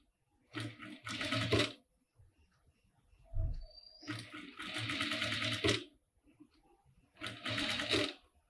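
Sewing machine stitching lace onto a cotton panty, running in three separate bursts of rapid clattering stitches with short quiet pauses between them, close and clear.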